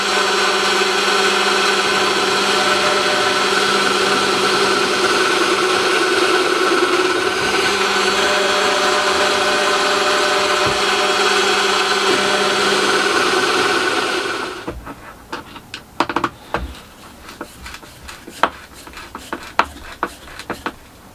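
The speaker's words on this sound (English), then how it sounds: "start and drill a few holes" A power drill bores holes through a wooden spinning wheel in a small shed with a long, loud, steady whine that stops abruptly, followed by scattered knocks and handling sounds of wood.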